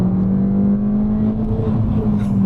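A Ford Fiesta ST (mk7) engine held near the rev limiter, producing a loud, steady high-revving drone with a fluttering edge, heard close up from inside the car.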